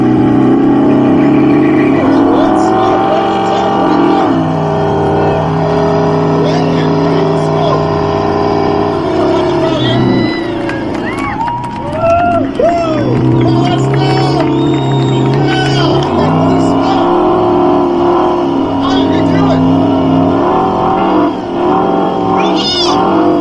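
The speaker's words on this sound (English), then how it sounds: "We're heading down to the burnout contest." Muscle cars at an outdoor burnout contest, engines revving and droning loudly in long waves with crowd noise, whoops and people talking mixed in throughout, near and sustained.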